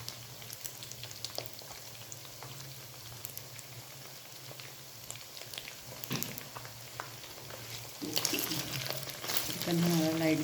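Vegetables sizzle and crackle steadily in a hot pan for Chinese fried rice, with occasional stirring scrapes and the frying growing louder toward the end.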